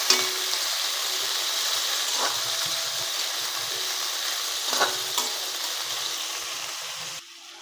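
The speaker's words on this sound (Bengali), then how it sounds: "ভালো করে ধুয়ে নিয়েছি গাজর আলুটা, একটু নাড়াচাড়া করে নেব।" Washed carrots and potatoes are stirred in a hot frying pan for carrot chorchori, a steady sizzle and hiss with a few sharp scraping clinks of the spatula, ending in a quieter tail.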